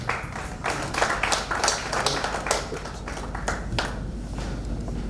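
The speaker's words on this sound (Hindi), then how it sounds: "मैडम के लिए जोरदार तालियां" Applause for a woman prize winner at an Arthritis Day medical event, steady clapping from an audience sustained for about five seconds with no talk over it.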